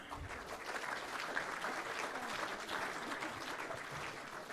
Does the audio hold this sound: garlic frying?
no